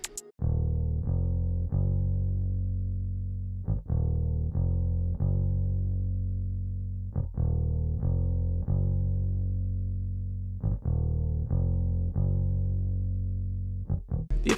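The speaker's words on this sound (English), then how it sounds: "So next I just grabbed this bass in Kontakt." A sampled bass instrument with added distortion, highs cut back and a tremolo effect plays alone as sustained low notes, each struck note pulsing rapidly and evenly in volume before the next phrase begins.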